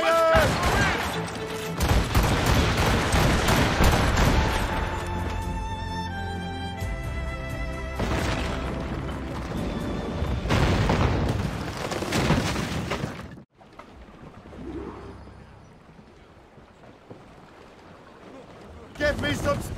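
Ship cannons fire in a naval battle in Assassin's Creed Rogue, heavy booming volleys over rushing sea and wind, mixed with shouted crew orders, before things quiet down toward the end.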